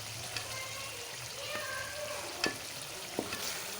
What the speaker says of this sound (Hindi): मसाले को बहुत अच्छी तरह भूनना चाहिए क्योंकि दही जो होती है खटाई ख़त्म हो जाए